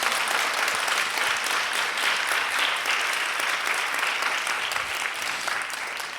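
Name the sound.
congregation applause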